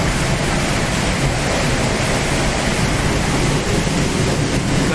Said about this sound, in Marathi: अमेझिंग धबधबा आहे.